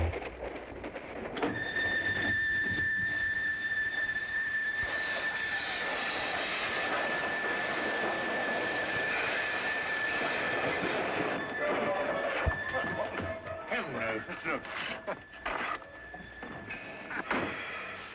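A train rumbles steadily along the rails with a sustained high whine, sounding close and continuous; the rattling shifts near the end.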